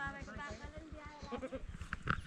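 A goat bleats in short wavering calls near the microphone, mixed with people talking nearby; the goat was brought home for slaughter but has just given birth to kids.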